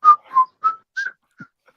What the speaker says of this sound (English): Who else heard Andy Griffith and started to whistle?